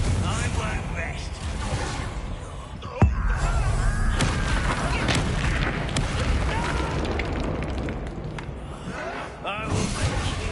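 A Bombarda spell explosion in Hogwarts Legacy lands with a sharp, loud blast that cuts through a dense, continuous wash of combat noise, while voices talk over the action.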